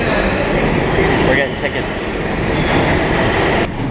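New York subway train rumbling loudly nearby with steady rail roar and clatter, while people talk over it.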